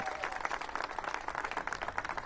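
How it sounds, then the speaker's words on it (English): Applause from an audience at a mayoral press event in DC breaks out for a doctor and her team, a short burst of scattered clapping heard at moderate distance, fairly light and thin rather than a roaring ovation. "Give them a big round of applause."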